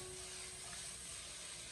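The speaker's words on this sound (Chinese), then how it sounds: "我们先开大火，把洋葱还有青红辣椒丝翻炒至半生熟" Onion strips and red and green chili strips stir-fry in a wok over high heat, giving a faint, steady sizzle with no talking.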